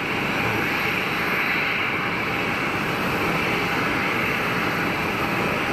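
An airliner begins its takeoff roll at Geneva Airport, a steady broad roar of jet engines heard from a distance, constant and fairly loud throughout with no voices.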